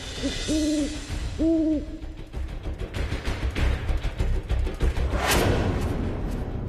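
Two distinct owl hoots, each a held wavering tone, sound early in a tense television drama scene, followed by a rumbling dramatic background score with a rising swell; no one speaks.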